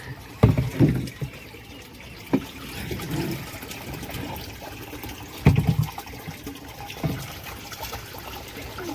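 Water running and splashing intermittently into a vessel, with a few louder gushes over a steady trickling background.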